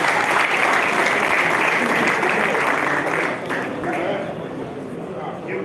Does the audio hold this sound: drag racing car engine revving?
no